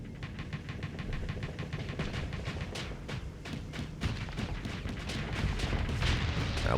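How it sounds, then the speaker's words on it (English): Spaceship guns auto-fire in the space combat game Starsector as a rapid, regular stream of thumping shots that runs throughout, with heavier impacts mixed in toward the end and no talk. "my guns are on auto shoot, so most of them should shoot on their own"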